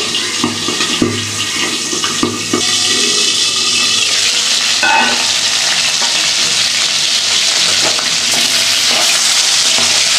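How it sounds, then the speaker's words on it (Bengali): Pieces of boal fish frying in hot oil with spices, a loud continuous sizzle with a few stirring clatters early on before the frying settles into a steady hiss. "মাছটা ভাজা হয়ে গেছে।"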